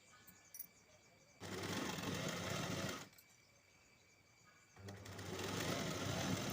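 A sewing machine stitching a lined blouse runs in two bursts of steady whirring with quiet gaps between, near but fairly soft.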